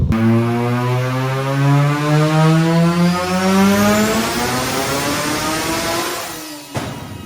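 A rotary-engined car with a T56 gearbox revs up through the gears, its rising whine climbing in pitch, loud and close, before dropping off abruptly near the end.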